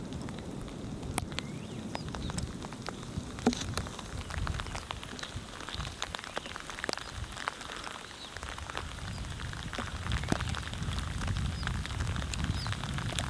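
Steady rain falls through a Himalayan forest in Kullu, Himachal Pradesh, a dense hiss of drops pattering on leaves and ground with scattered sharper splashes, continuous and fairly close with no voices.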